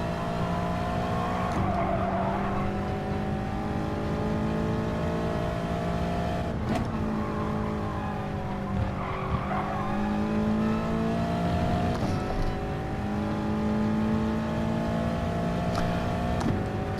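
A Viper race car engine in a racing video game drones loud and steady, with gear shifts and repeated revving climbs and drops as it laps, and no voices over it.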